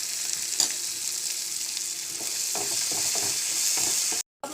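Spice paste with salt sizzling in a hot pan as it is stir-fried, a bright continuous frying hiss broken by the scrape and rustle of stirring, ending with a brief cut to silence.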